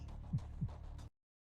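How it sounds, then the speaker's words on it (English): Two deep, soft heartbeat thumps land close together, muffled and low over a faint hum, then cut abruptly to silence. "You hear your heartbeat stop."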